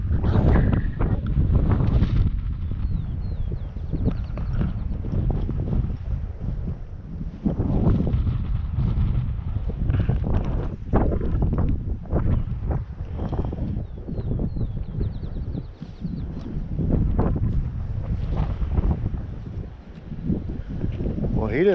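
Strong wind buffets the microphone on an exposed high-country hike, a loud continuous rumbling roar with gusty swells throughout, and no clear voices over it.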